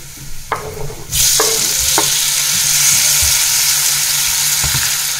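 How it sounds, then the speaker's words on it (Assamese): Onions hit hot oil in a wok and burst into loud, steady sizzling that keeps going, with a few stirring clatters at the start and end. "কেৰাহীখনত আকৌ অকণমান তেল গৰম কৰি তাতে মই দি দিলোঁ পিঁয়াজখিনি"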